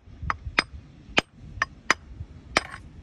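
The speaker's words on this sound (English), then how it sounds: "let's give it a really good crack with this cleave end of the hammer" The cleave end of a hammer strikes a rock on the shore of the Jurassic Coast near Lyme Regis, trying to split out a fossil. Six sharp, ringing knocks come at an uneven pace, close and clear, with no talk.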